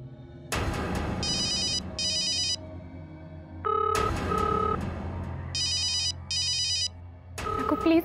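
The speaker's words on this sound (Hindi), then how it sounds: "रघु प्लीज फोन उठाओ।" Telephone ringing unanswered in a Hindi TV drama scene, repeated electronic ring bursts in pairs separated by short gaps, with background music and faint rumbling between rings.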